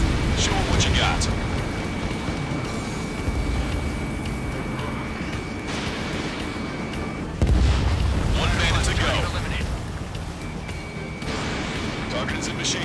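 Missile launches and explosions in the Ace Combat 7 jet combat game, with deep booms and rumbling blasts over a constant engine drone, several louder bursts punctuating the mix while voices talk over it.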